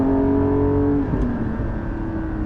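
Porsche 718 GT4 with a Soul exhaust, heard from inside the cabin: a loud, steady engine drone with strong harmonic tones that shifts pitch around the one-second mark, close and alone with no talking.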